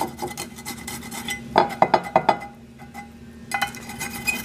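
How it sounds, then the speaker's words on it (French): Garlic grated with a metal fork against the bottom of a gratin dish, giving a run of scraping clinks and rubs, loud bursts in quick rhythm in the middle with quieter scratching around them, no talk. "Dans le fond de mon plat gratin, à l'aide d'une fourchette, je vais râper"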